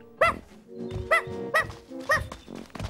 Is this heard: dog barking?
yes